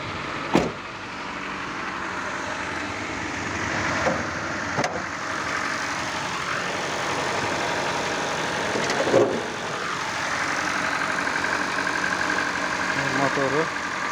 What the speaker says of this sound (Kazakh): Газ баспайтын оталады. Бір қосқанынан оталады.